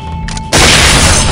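A flashbang grenade goes off in the game SWAT 4, a sudden deafening blast that cuts in after a brief quiet lead-in and sustains as a loud, harsh roar with no voices.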